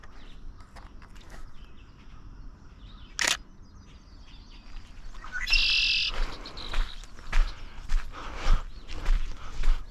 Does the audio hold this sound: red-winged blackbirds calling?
yes